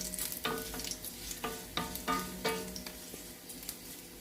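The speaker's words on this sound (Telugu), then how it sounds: "కరివేపాకు, ఒక ఎండుమిరపకాయ కూడా వేస్తున్నానండి" Curry leaves and a dried red chilli sizzling in hot oil for a tempering, a steady close crackle with repeated sharp stirring clinks and pops at an irregular rhythm, no voices.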